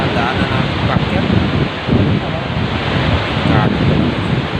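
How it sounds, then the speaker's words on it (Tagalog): A strong current of water rushes at Wawa Dam, a loud, steady roar of broadband noise that fills the whole span, with wind buffeting the microphone. "Lakas ng agos ng tubig pinigarinig dito sa daanan namin backyard."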